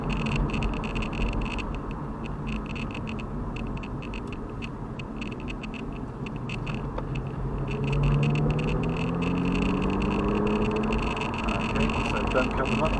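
Aston Martin DB9 engine heard from the cockpit on a race track, a steady loud drone with rising revs as it accelerates through the gears, an instructor's voice talking over it.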